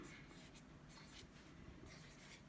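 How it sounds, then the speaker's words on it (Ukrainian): A permanent marker writes a label for peony plants, a faint, soft scratching rub in short strokes. "перманентним маркером, щоб не стерлося, щоб надовго хватило підпису"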